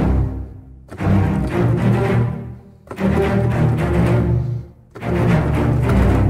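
Layered orchestral string libraries, Albion and Symphobia with spiccato, play a dense full-ensemble passage in three broad swells, rich in low strings, loud and close, with no talking.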